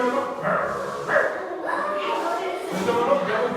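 A child imitates a dog barking with a voice, giving several short yelping "bow-wow" calls in a rhythmic sequence, close and moderately loud, amid other children's voices in a library session.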